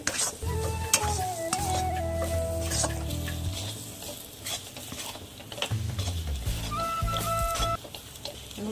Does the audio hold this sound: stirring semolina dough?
yes